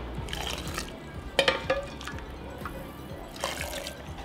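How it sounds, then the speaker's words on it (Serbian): Boiled water is poured back into a glass jar, with gurgling, trickling splashes in short bursts against a quiet background. "I evo voda je proključala i vraćam je nazad u teglu. I punim sve do vrha."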